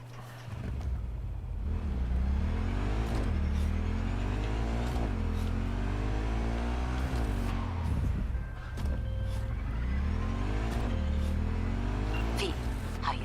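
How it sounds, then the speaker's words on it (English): A motorcycle engine in the video game Cyberpunk 2077 revs up repeatedly, its pitch climbing and dropping through a series of gear changes. The sound is loud, close and continuous for over ten seconds. "This is my motorcycle."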